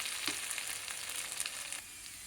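Potatoes fry in a pan with a soft, steady sizzle and faint crackles, close but quiet, with no talking.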